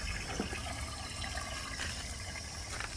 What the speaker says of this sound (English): so water's going in there